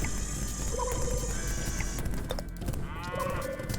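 Cows in the video game Beware Planet Earth moo twice, short and fairly faint, over a steady bed of game music and effects with a brief mechanical clatter between them.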